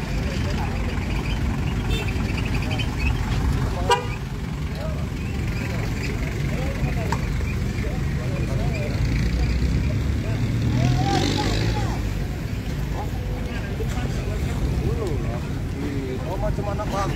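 Cars and trucks roll one by one off the KMP ferry at Tigaras port on Lake Toba after crossing from Simanindo, a steady low rumble of engines and hull noise with wind buffeting and people talking nearby throughout.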